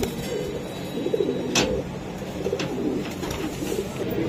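Pigeons at a seller's loft in Lalbagh, Old Dhaka, cooing in soft low repeated calls with a few sharper flutters and chirps amid a busy background hum.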